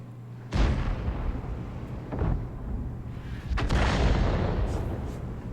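Artillery fire in the World of Tanks video game, with a heavy boom followed by a lighter report and then another loud blast that rolls on for a while, heard alone without voices.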